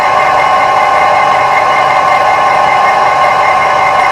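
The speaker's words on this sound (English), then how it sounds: "I'm boring this one at about 130." A boring machine fitted with a boring head cuts metal at about 130 RPM, giving a steady, loud mechanical hum with a constant grinding whir and no change in pace.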